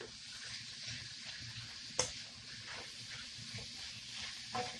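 Sausage fries in a pan with a steady, fairly quiet sizzling hiss, broken by a sharp click or clatter partway through.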